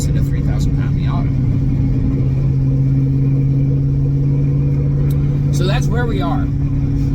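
Supercharged 600-horsepower Mazda Miata weighing about 3,000 pounds, with a steady mid-pitched engine drone and rumble while driving through the gears, loud and close throughout, with a person talking over it.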